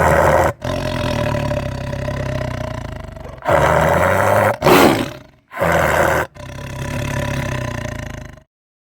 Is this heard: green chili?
no